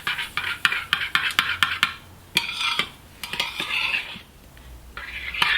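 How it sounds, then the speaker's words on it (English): A spoon stirring chia seeds into a pumpkin pudding mixture in a bowl, a run of quick sharp clinks against the dish followed by softer scraping swirls, close and alone. "Stir that through."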